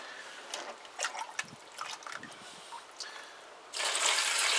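Water is poured from cups in a workshop in several short splashing bursts with pauses between them, ending in a louder sustained gush near the finish, faint and close.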